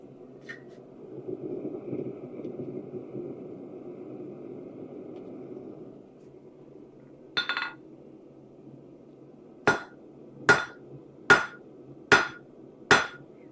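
Steel is hammered on an anvil in a forge, with a few faint metallic sounds, then five sharp, ringing hammer strikes at a steady rhythm near the end over a low background hum.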